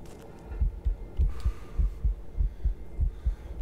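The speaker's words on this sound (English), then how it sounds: "I like the heartbeat" A heartbeat pulses in the video game Incubo, with low, deep thumps in steady double beats, about ten across the stretch, loud and alone.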